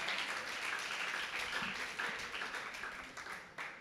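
A church congregation applauds at a worship service, a steady wash of many hands clapping that holds loud and even throughout, tapering slightly toward the end.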